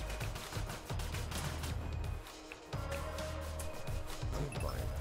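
Rapid gunfire in the VR shooter Tower Tag rattles through a busy game mix, with repeated shots and bursts, briefly dipping before resuming.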